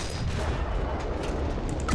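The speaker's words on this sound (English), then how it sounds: "128mm gun can, in fact, take out a T-28" 128mm tank gun fire in War Thunder: a dense, loud rumbling roar of gunfire and blast noise filling the clip continuously, with no speech over it.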